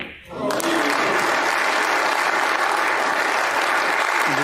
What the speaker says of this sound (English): the crowd appreciating the skill that Zhang Anda is showing here